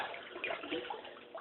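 Electrolysis solution is poured out of a cast iron skillet during restoration, a close, splashy stream of liquid running and gurgling unevenly for about a second and a half.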